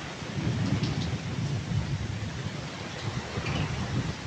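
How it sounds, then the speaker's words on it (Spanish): A storm of heavy rain and strong gusting wind, with low rolling thunder swelling and fading beneath a continuous wash of falling rain; nobody speaks. "Es una buena la lluvia."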